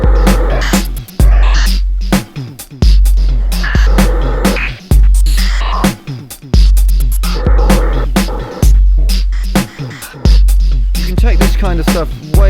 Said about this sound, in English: There we go, vocal white noise.